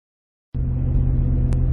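A 2002 Range Rover 4x4 driving on a road in the West Country in winter, a steady low engine and road rumble starting abruptly after silence, with a brief tick near the end.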